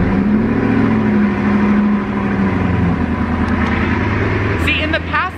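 A Bugatti Chiron's engine starts and revs, a loud, deep, steady roar running throughout with a rising pitch sweep near the end, while people talk over it.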